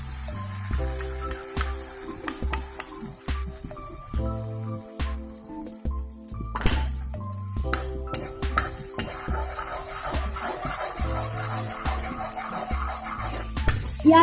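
Beaten eggs stir-fried in a pan for egg momo filling, with repeated close scraping and clinking of a spatula against the pan over a light sizzle, no talking.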